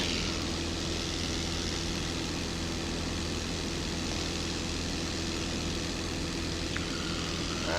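A propeller airplane climbs out on a westbound departure from Saint Augustine Airport in Florida, its engine a steady, loud drone that fills the cabin throughout without a break.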